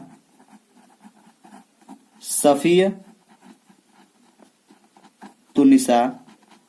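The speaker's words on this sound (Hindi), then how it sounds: "तो हम लिखेंगे क्या, सफीतुन्निसा" Chalk or marker strokes on a classroom board during a Hindi lesson come in two short bursts of scratchy writing, with a teacher's voice quietly in the background.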